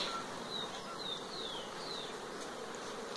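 Honey bees buzz around beehives in an outdoor apiary, a steady insect drone with a few rising whines of individual bees passing close by, no talk.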